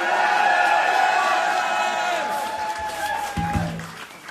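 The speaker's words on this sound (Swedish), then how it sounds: "En applåd för..." A concert crowd at a show in Driv, 2016, claps and cheers loudly as the last sustained music notes fade out. The applause thins toward the end with scattered whoops.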